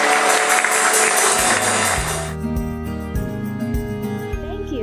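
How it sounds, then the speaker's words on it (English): A church congregation claps its hands, loud dense applause that ends abruptly, after which music with steady tones continues. "let's clap our hands to the Lord"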